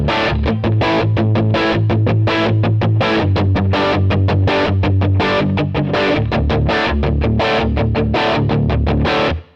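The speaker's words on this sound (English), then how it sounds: "I'm going to add the tiniest bit of reverb. I'm going to just put a room" Distorted electric guitar played through a Quad Cortex with a light room reverb: loud, rhythmic chugging chords in quick repeated strums, ending abruptly.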